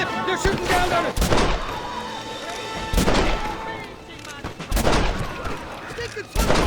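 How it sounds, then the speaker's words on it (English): Enemy gunfire in the Red Dead Redemption assault on Fort Mercer, a Wild West shootout: loud, ragged volleys and repeated shots in several bursts over a constant battle din. "They're shooting down on it!"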